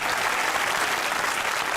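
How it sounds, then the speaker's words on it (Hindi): Dense, steady applause from a studio audience on a television talk show, with many hands clapping evenly and loudly throughout. "जमात के लिए तालियां होनी चाहिए"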